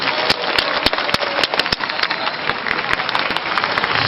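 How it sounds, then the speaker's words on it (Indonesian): Audience applause at an outreach event, steady clapping from a crowd with a few sharp individual claps standing out, fairly loud and continuous throughout. "Boleh tepuk tangan dulu bagi semua"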